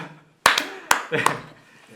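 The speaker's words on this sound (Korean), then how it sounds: "자, 박수." An audience gives a short round of applause at a Korean church community gathering, with a few distinct claps and a brief scattered patter rising after a quiet moment.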